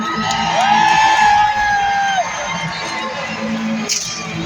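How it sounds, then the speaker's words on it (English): A crowd at a jousting tournament cheers and whoops loudly, with a sustained yell rising over the noise before it settles into a lower, steady murmur of voices. "And the crowd goes wild."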